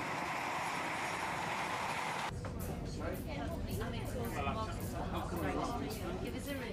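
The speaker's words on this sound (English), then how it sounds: "As Sara left, another metro travelling in the opposite direction towards Newcastle also stopped at Shiremore" A metro train pulls into Shiremoor station near Newcastle late at night. A steady rumble shifts into clattering wheels and brake squeal partway through, and a narrator talks over it.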